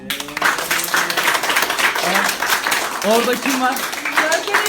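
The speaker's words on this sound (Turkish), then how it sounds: "Bir alkış alayım" An 8th-grade school class claps for a word tournament, a dense, continuous patter of many hands filling the room while a teacher's voice speaks over it.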